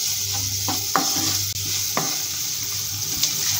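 Mashed potato and spices are stirred in a pan over a high gas flame for a Bengali-style lonkar chop filling, giving a steady close sizzle broken by occasional scraping knocks of the spoon, with no talk.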